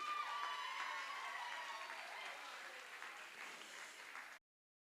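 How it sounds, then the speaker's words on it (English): An audience at a charity gala applauds Nikki after an auction sale, a steady crowd clapping, fairly faint and slowly fading, with some cheering in the mix before it cuts off abruptly. "Give him a round of applause"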